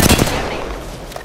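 Rapid gunfire in Apex Legends, a loud burst of sharp shots at the start that trails off into a noisy, reverberant tail.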